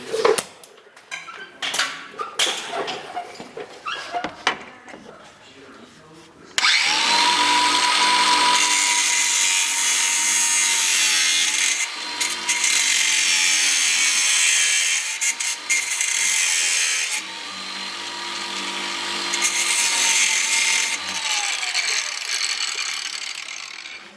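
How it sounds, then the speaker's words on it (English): Power tool cutting through the bottom flange of a Bushwacker fender flare on a GMC Sierra truck, a loud steady grinding whine that runs almost continuously after some quieter handling noises at the start. "we just ended up cutting it right at the bottom here"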